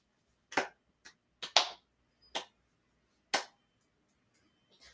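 Quiet style of hand clapping taught in elementary school, six or seven soft, separate claps spaced irregularly and sounding close in an otherwise near-silent room.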